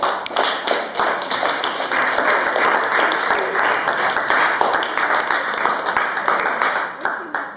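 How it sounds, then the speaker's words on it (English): An open mic crowd claps loud and steady, with individual sharp hand strikes poking out of the dense applause for the whole stretch. "Clap her up again"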